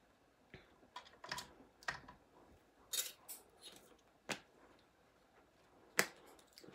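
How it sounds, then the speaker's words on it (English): Polymer clay fed through a pasta machine while rolling a scrappy swirl cane, giving a run of quiet, sharp clicks and crunchy snaps spaced irregularly over a faint background. "So I'm gonna run it through the pasta machine widthwise."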